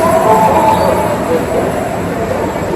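Loud, continuous rumble of a train rolling past nearby, with a steady roar and faint metallic whine throughout.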